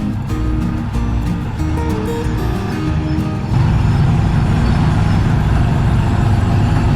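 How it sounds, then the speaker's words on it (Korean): Motorized tricycle ride through a Philippine neighbourhood street, with a steady engine drone and road rumble close by, growing louder and rougher midway, without talk. "트라이시클은 정말 오랜만에 타보는 것 같네요."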